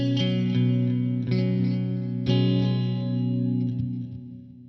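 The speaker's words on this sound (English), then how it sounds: "Let's dial a little bit of reverb." Sustained electric guitar chords ring out with a spacious reverb tail from The Crown plugin by Audio Assault, each strum lingering and blending into the next before fading.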